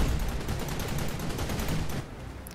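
Rapid, sustained gunfire strikes a vehicle in the game Anno 2070, a loud continuous rattle of shots that eases off and thins out in the final half-second.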